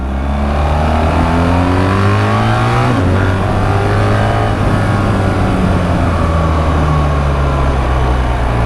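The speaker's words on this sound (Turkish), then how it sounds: "Değişik bir sesi var motorun." A BMW R 1300 GS motorcycle engine runs steadily and loudly throughout, its pitch rising and falling slightly as it revs, with no voices.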